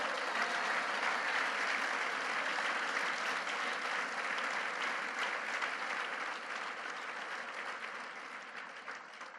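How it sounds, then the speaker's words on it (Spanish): A church congregation gives a loud, sustained round of applause during a live Spanish-language sermon, the dense clapping holding steady throughout and easing slightly toward the end, with no voice over it. "denle un fuerte aplauso al que nos ama"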